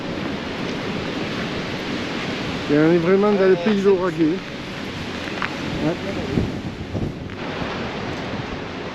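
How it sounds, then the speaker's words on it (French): Strong wind buffeting outdoors near the Seuil de Naurouze, a constant loud rushing roar across the whole stretch, with voices talking briefly over it partway through. "Mais ce vent c'est terrible."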